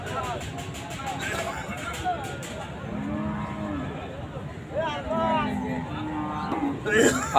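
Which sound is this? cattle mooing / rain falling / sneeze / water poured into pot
cattle mooing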